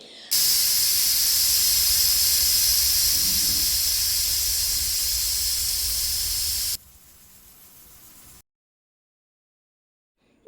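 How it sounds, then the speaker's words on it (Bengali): Pressure cooker releasing steam after its whistle is lifted: a loud, close, continuous hiss for about six seconds, then a weaker hiss that stops abruptly, leaving silence. "2টো সিটি দিয়ে সাথে সাথে গ্যাস অফ করে প্রেশারের সিটিটাকে তুলে দিয়েছি।"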